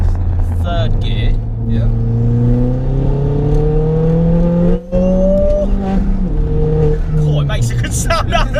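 A 320bhp Ford Fiesta ST with a forged engine and straight-through exhaust, pulling in third gear: a loud, close engine drone climbing steadily in pitch as it revs, with a brief dip partway through before the note carries on.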